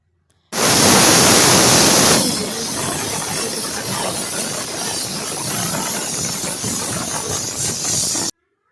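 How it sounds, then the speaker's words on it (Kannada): Loud pressure cooker whistle with mutton inside: a sharp, steady jet of hissing steam bursts out, then settles into a continuous rushing hiss. "ಕುಕ್ಕರ್ ಮುಚ್ಚಳ ಮುಚ್ಚಿ ನಾನು ಇವಾಗ ಇದು ನಮ್ಮದು ಎಳೆ ಮಟನ್ ಆಗಿರೋದ್ರಿಂದ 3 ವಿಷಲ್ ಕೂಗಿಸ್ಕೊತಾ ಇದ್ದೀನಿ"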